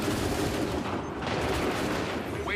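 Volleys of musket fire from soldiers in Assassin's Creed 3, a dense crackling burst of gunshots rolling steadily and fairly loud through the short stretch.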